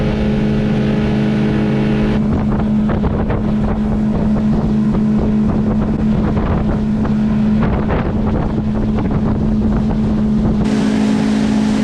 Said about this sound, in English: We're going to kick the engines up in a second.